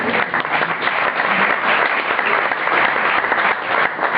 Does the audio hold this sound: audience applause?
yes